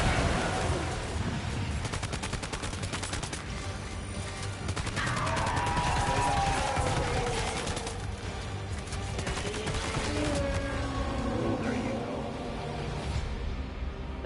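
Sustained machine gun and assault rifle fire in Death Stranding 2, dense continuous rattling bursts layered with crashes and whooshing tones, loud and unbroken across the whole stretch.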